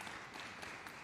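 An engineering symposium audience applauds, a faint, even wash of many hands clapping with no voices over it.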